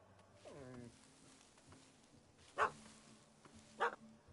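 A dog in a PS4 video game yips and whimpers briefly, followed by two short sharp barks spaced about a second apart, fairly faint over quiet game ambience.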